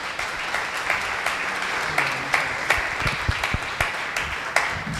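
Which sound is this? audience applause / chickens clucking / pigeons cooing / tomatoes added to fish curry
audience applause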